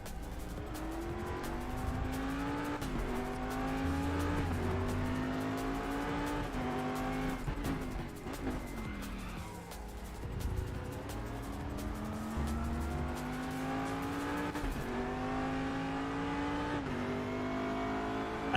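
A race car in the RaceRoom video game at Daytona revs at full throttle with a loud, sustained engine whine. Its pitch climbs through each gear and drops sharply at the shifts, with brief tire noise in places.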